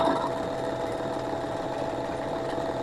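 A domestic sewing machine stitching fabric runs steadily and continuously at close range, a constant mechanical whir with no pauses.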